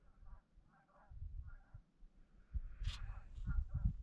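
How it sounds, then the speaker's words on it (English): Geese honk repeatedly in short bursts, fairly faint and distant at first, then louder and busier as the calls overlap toward the end. "geese flying over."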